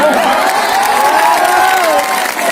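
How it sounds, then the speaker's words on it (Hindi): Crowd applause and cheering from an audience at a Hindi kavi sammelan poetry recital in Gaya, a dense steady roar of clapping and voices lasting the whole moment. "एक बार मेरे समर्थन में तालियां दो"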